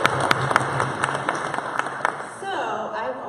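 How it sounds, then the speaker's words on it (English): Audience applause at a 1 Million Cups Kansas City startup pitch gathering: a steady, moderately loud patter of many hands clapping for about three seconds, with a voice speaking over it. "Can we get an applause for that first?"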